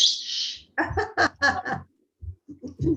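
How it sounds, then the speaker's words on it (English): A loud pet bird gives a high, shrill, sustained call at the start, followed by a quick run of sharp chattering squawks, a short pause, then a few more bursts close to the microphone. "I have a loud bird."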